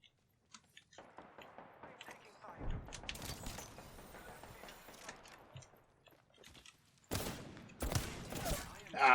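Gunfire in the battle royale game Apex Legends: bursts of rapid shots in two main volleys, loud and dense, with quieter sporadic shots and game noise between them.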